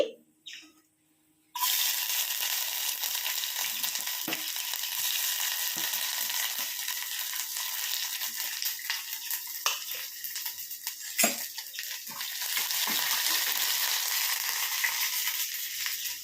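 Garlic and ginger sizzle in hot oil for a rambutan pickle, a steady close frying hiss after a quiet start, with utensil clinks and stirring scrapes over it.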